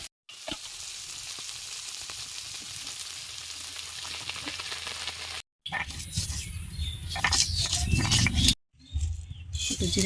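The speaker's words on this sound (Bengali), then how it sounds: "একটু জিরে ভেজে নিই।" Cumin seeds fry in a pan for a small-fish recipe with telakucha greens: a steady close sizzle with two brief cutoffs, growing louder and busier near the end as stirring scrapes and crackles join in.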